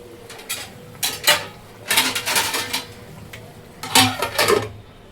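Metal lid set onto a cooking pot of gravy with kasuri methi, giving a few short clattering knocks in a quiet kitchen, three separate clusters of light metallic contact.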